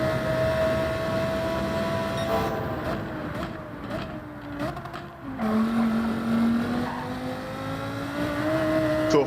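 Race car in the Gran Turismo 7 video game with cold tires, engine tone dropping as it brakes into a turn, then climbing again, loud and continuous throughout.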